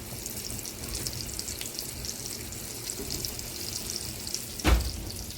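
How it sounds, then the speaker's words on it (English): Zucchini slices fry in a little added oil in a frying pan, giving a faint continuous hiss. A brief louder clatter or thump comes near the end, close by, with no talking over it. "Can you hear the sizzle?"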